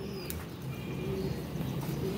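Pigeon cooing softly in a loft among kept pigeons, a low steady coo repeating under faint background noise with no talk.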